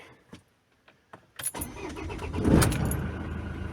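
A Ford Transit with a 2.4 Duratorq TDCi diesel engine cranks and fires after a cold night, preceded by a few faint clicks and key jingles, then a close, rough idle settling in with no talk.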